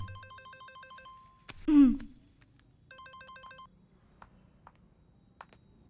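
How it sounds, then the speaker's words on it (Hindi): A phone rings with a synthetic, repeating electronic melody in two short bursts separated by a sharp whoosh, with a few faint clicks trailing after; no talking. "फोन।"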